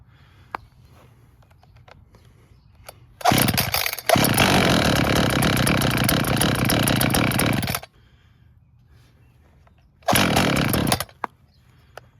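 An ECHO CS-440 chainsaw with running trouble, run on questionable fuel mix with the choke on, roars loudly up close for about four and a half seconds then cuts out, followed by a second short burst after a quiet pause.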